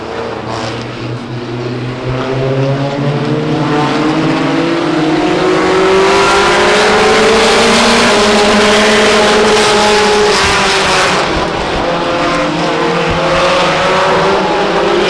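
Race trucks roar loudly around Stockton 99 Speedway at a 2003 event, one truck smoking heavily. Close engines hold a sustained snarl, their pitch swelling and sliding as the trucks pass, with faint tire noise underneath.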